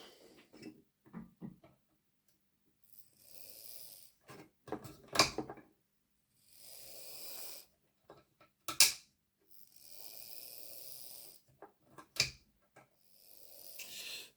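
Hornby 'County of Bedford' model locomotive running on a test track during repair, its small motor and gears whirring in several short separate bursts with sharp mechanical clicks between them.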